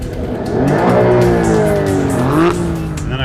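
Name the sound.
McLaren car launching and accelerating in a drag race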